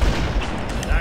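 Gunfire in Halo: Combat Evolved, a dense burst of loud, rapid shots with low booming thumps running through the whole second, set against busy game background noise.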